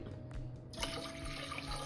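A glass of water poured into a pot of coconut milk and soaked rice while making coconut rice, a short splashing pour that starts abruptly and then runs on as a steady trickle, close and quiet.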